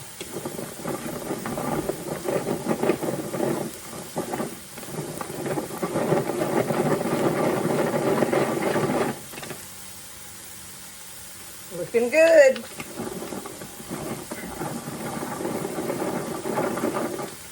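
A food processor minces shrimp in steady whirring bursts, its motor buzzing loud for several seconds, pausing, then running again after a short break, with a person speaking briefly during the pause.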